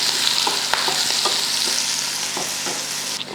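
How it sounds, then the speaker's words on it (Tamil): Shallots and green chillies sautéing in a pan for an ivy gourd and potato stir-fry, giving a steady close sizzle with occasional soft stirring scrapes, no talking. "பாருங்கள், வெங்காயம் வந்து நல்லா வதங்கிடுச்சு."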